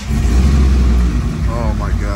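A BMW E30 engine runs close and loud with a deep, steady rumble and slight revving, and a voice speaks briefly near the end.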